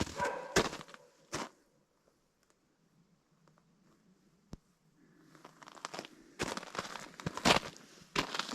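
A working dog on a wolf and coyote trapline in the forest of northern British Columbia gives a single sharp bark early on, followed by quiet, then rustling, crunching footsteps and brush noise nearby.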